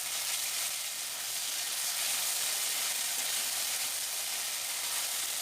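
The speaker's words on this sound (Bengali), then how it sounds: "মশলাটা ভালো করে কষিয়ে নিচ্ছি।" Ginger, cumin and coriander paste sizzles in hot oil in a pan, a steady, dense hiss that holds evenly throughout without breaks or talk.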